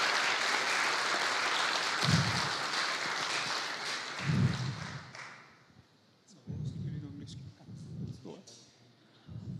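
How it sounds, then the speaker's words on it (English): An audience at a real-time Linux conference talk applauds loudly for several seconds, and the clapping fades into a few scattered thuds while a voice speaks briefly. "first, a round of applause"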